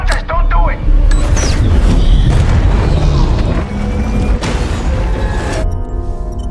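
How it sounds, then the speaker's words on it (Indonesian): A bomb detonating in the film The Meg 2, a deep rolling boom with heavy low rumble and crashing debris, loud and sustained, with voices over it. "Dengan terpaksa, ia harus meledakkan bom yang membunuh anak buahnya."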